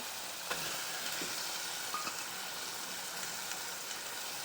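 Tomato and curry leaves sizzle in hot tempering oil, a steady bright crackling hiss with occasional faint pops, close and continuous with no talk.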